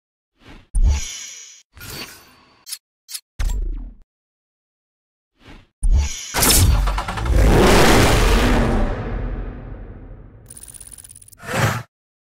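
A lightweight Porsche sports car in the racing game Need for Speed Hot Pursuit, with short starts and bursts of revving followed by a loud, sustained acceleration that rises and fades away, then a final rev.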